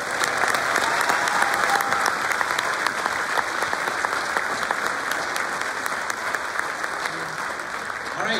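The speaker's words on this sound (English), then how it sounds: "One more round of applause for everybody." An audience of parents and guests at a fifth-grade school ceremony claps in a dense, continuous round of applause that stays even and moderately loud throughout.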